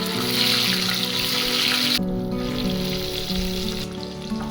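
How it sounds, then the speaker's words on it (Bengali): Fish pieces frying in hot oil in a wok for a Bengali fish curry, a steady loud sizzle and crackle running throughout with no talking. "তেল ভালোভাবে গরম হয়ে গেলে মাছগুলো একে একে কড়াইতে দিয়ে দেবো"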